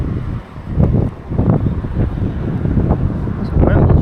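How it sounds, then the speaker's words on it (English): Strong gusting wind buffets the microphone while fishing from a bridge over the Intracoastal Waterway, a loud, continuous low roar with surging blasts throughout. "This wind is fucking awful."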